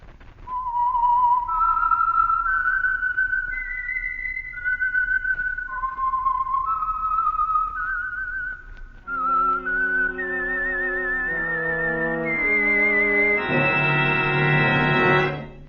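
A lone whistled melody signals The Whistler radio show, a clear wavering tune of slow rising and falling notes, joined near the end by a fuller orchestral chord.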